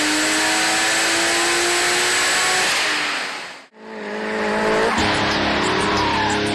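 Drift car in a Queensland drift zone screams past with squealing tires and a revving engine, loud, fading to a brief hush before another tire screech and engine note rise again.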